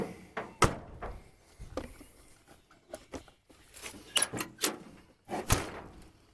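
An old GM G-body car door, from an El Camino, opens and shuts with a few sharp metallic clunks and rattles spread across several seconds, close by.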